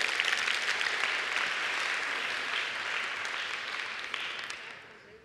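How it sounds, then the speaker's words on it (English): Audience applause at a conference talk, a steady wash of many hands clapping at moderate distance that gradually fades out toward the end, with no talking over it. "Give them a big round of applause, you guys."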